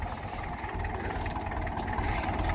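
Tractor engine running steadily while clearing brush behind a big five-bay barn on a farm, a low continuous rumble heard at a distance, fairly faint, without talk.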